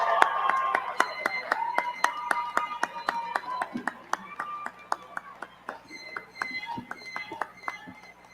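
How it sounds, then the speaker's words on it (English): Graduates at Carnegie Mellon's 2021 fall graduation ceremony applaud their families: scattered, distinct claps in a large hall, moderately faint, mixed with background tones and a voice. "How about a round of applause for your families for all the support they've given you?"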